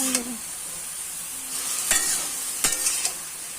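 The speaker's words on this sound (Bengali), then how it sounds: "তো এখন এটাকে একটু ভাজা ভাজা করে নামাই দিও" Bottle gourd greens with a little turmeric fry in a pan, giving a soft continuous sizzle broken by several sharp utensil scrapes and taps from stirring, close by with no speech.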